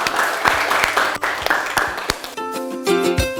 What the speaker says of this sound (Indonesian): silahkan teman-teman berikan tepuk tangan kepada kelompok kinestetik